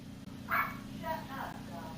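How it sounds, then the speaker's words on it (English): A dog barks indoors at low volume in a tie-dye crafting session, with a couple of short yips and whimpery barks in quick succession over a steady background hum. "Forgive the other dog, she's very vocal."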